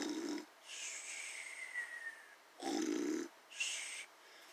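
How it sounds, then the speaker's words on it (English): A person snoring at length, with loud rasping inhales alternating with quieter breathy stretches in a slow, regular rhythm, close and clear with no talk. "now 42 hours of snoring"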